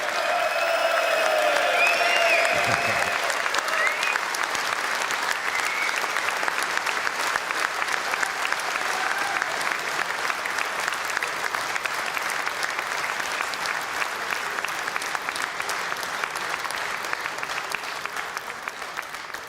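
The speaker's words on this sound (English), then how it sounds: "Big round of applause for Suella." Sustained applause from a large crowd at a Reform UK political event fills the room, steady and dense, fading slightly toward the end.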